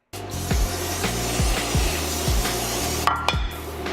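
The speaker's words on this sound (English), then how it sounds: "Me, I got this butter flavored non-stick, you know, spray. So I'm just gonna go ahead and spray it." Butter-flavored non-stick cooking spray hisses steadily onto a pan for about three seconds, with soft, regular low thumps beneath the spray.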